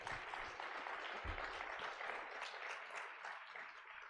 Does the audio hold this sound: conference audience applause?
yes